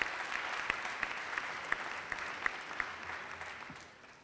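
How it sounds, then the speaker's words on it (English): A crowd applauds the UVM class of 2011 at Match Day, dense clapping heard at a distance with a few sharper claps standing out, fading toward the end. "one more big round of applause for class of 2011"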